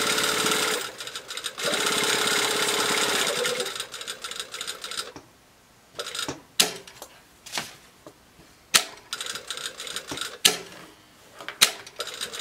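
A sewing machine topstitching a bag lining runs in a steady buzzing burst for about four seconds, then falls quiet apart from a few sharp clicks and taps of handling the fabric.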